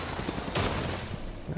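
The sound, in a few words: shooting down an item in the video game Darksiders III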